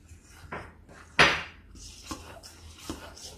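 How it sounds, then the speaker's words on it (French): Chocolate cookie batter being stirred with an egg in a mixing bowl, heard as quiet scraping and a few light clinks of a utensil against the bowl, one sharper knock standing out. "Et maintenant, Chef Théo va continuer à mélanger."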